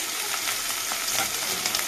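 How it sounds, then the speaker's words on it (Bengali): Shrimp fry with onions in a hot pan, giving a steady, dense sizzle that carries evenly throughout with faint stirring scrapes mixed in. "এবার এটাকে ভালো করে পেঁয়াজের সঙ্গে ভেজে নেব"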